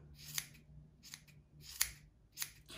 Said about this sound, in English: Get your sharp scissors, start by cutting those little tails off,